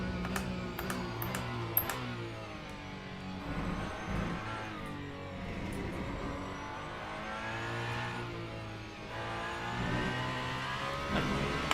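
A race car engine in the racing game Le Mans Ultimate revs and whines through gear changes, pitch rising and falling repeatedly, with a few sharp clicks near the start.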